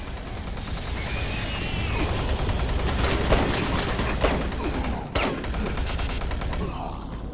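A machine gun fires in Doom 3 with a continuous, dense rattle of shots and clanking mechanisms, loud and close, interrupted by a brief crash midway.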